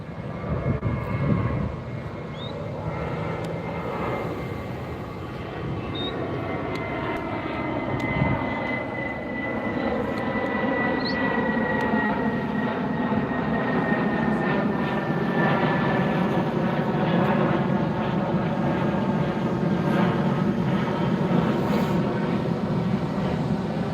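A Spirit Airlines jet passes overhead near the beach by LAX, its engine roar loud and steady with a slowly shifting whine across the whole stretch.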